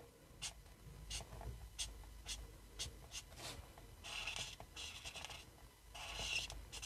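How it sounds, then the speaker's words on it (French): Pencil or marker scratching and rubbing on paper while colouring a large owl drawing on a stamped winter owls card, faint repeated strokes with short bursts of brisker scribbling. "Donc la chouette est un petit peu grande, donc on prend son temps pour colorier"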